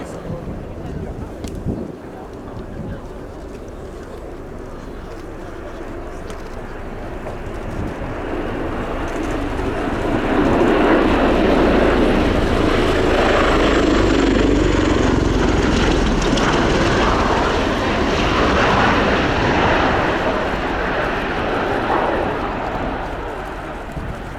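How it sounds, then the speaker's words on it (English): A USAF Bell Boeing CV-22B Osprey tiltrotor takes off, its deep rotor and engine roar swelling from a moderate drone to a loud, broad rushing peak midway before easing slightly. "At higher weights, aircraft style takeoffs are more common, but you can still perform a jump takeoff."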